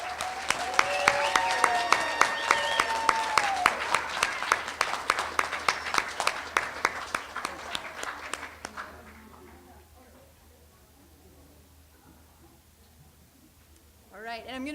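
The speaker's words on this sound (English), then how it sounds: "Would you join me in giving our graduates a round of applause?" A graduation ceremony crowd applauds steadily for several seconds for GED graduates, then the clapping fades out into quiet murmuring before a brief final rustle.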